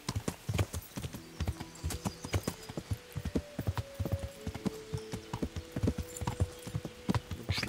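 Horse hooves clip-clopping steadily in the medieval video game Kingdom Come Deliverance, a loud, close, rhythmic run of hoofbeats lasting several seconds with a faint low hum underneath and no talk.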